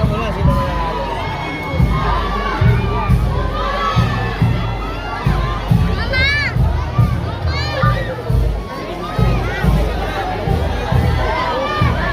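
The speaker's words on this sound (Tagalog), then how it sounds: "yung mga nasa bintana, sigaw nila kay Yorme talaga" Crowd of onlookers, many of them children, shouting and cheering from windows for a city mayor arriving in Pandacan, Manila; loud, sustained and continuous, with excited shrieks and rising whoops over a dense crowd roar.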